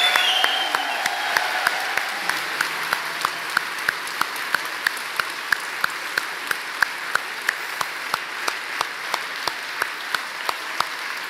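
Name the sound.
audience applause for speakers at a public forum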